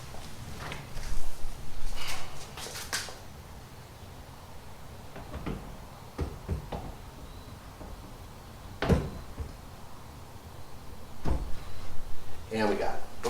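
A front passenger-side Jeep door is lifted onto its hinge pins, giving scattered metallic clunks and knocks with a louder bang near the end, while people talk throughout.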